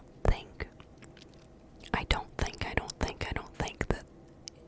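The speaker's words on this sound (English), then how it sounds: "I wanted to eat a sandwich with you and, do a little bit of some chewing sounds, mouth sounds" Close, wet chewing and mouth clicks from someone eating a sandwich, in irregular bursts with soft whispering between bites.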